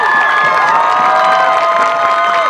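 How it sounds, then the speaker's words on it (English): A crowd at a varsity football game cheers and shouts for a marching band honored with a first division festival rating, a loud sustained roar of many voices with whoops and rising tones. "Give these students a loud round of applause for this accomplishment."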